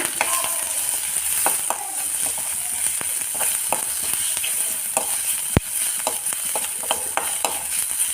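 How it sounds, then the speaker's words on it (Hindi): Steady sizzling of garlic and ginger paste frying in a hot pan, with repeated scraping stirs and one sharp clink partway through; no voices. "अब इसमें हम ये अपना लहसुन का और अदरक का पेस्ट डाल लेंगे, इसे अच्छे से भून लेंगे।"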